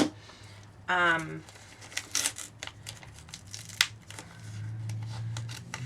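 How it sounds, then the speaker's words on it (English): Scissors make a short slicing snip through Arches paper, followed by crisp crinkling and rustling of paper, close and fairly quiet, with scattered small taps. "Now I need a pair of scissors."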